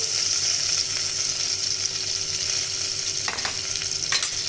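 Spices temper in hot oil for a Sindhi tomato curry, a loud continuous hiss and sizzle with a few scraping stirs near the end, heard alone.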